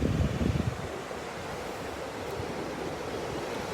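Ocean surf washes in a steady broadband roar, a louder rush of breaking wave at the start settling into continuous wash with some wind noise on the microphone.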